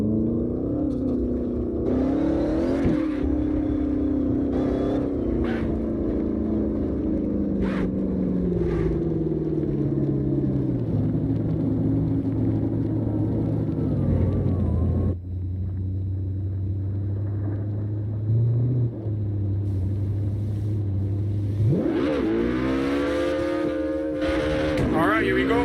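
Drift cars race in CarX Drift Racing Online, a continuous loud engine drone that rises and falls in pitch with revving and shifting, and a voice speaks over it in places.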